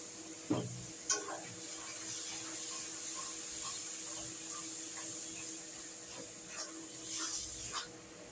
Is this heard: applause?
no